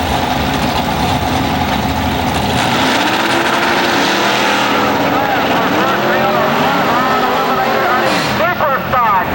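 Drag race cars, among them a Dodge Challenger, roar loudly at an IHRA drag strip with continuous engine noise and rising revving harmonics, while an announcer talks over the din throughout.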